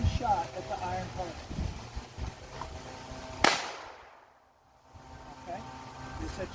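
Single gunshot fired at an iron target, one sharp close crack midway followed by a brief hush, with faint outdoor background noise before and after.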